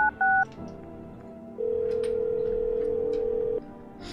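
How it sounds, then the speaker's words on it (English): Telephone keypad tones from the video game No, I'm Not a Human: a couple of quick beeps, then a steady tone that holds for about two seconds and cuts off, with faint background sound and no talking. "we need to make a phone call to Forrest for them energies."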